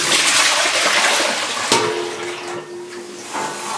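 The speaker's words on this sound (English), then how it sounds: "I'm just going to pour out this water." Water being poured out of a bowl while dyeing yarn at home: a steady, close rushing splash that eases off partway through, then trickles and gurgles more softly.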